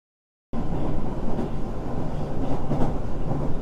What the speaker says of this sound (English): The subway ride home passed in a blur of fluorescent lights and rattling steel